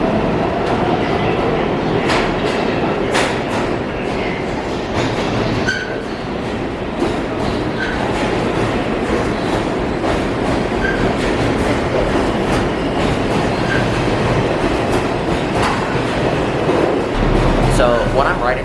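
A New York City subway 6 train running out of service near Brooklyn Bridge–City Hall, a loud, steady rumble with rhythmic wheel clatter and occasional faint squeals throughout.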